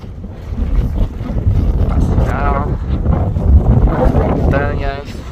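Strong wind buffets the microphone at a snowy mountain lookout near Bariloche, a steady low roar running through the whole stretch, with voices speaking over it at points.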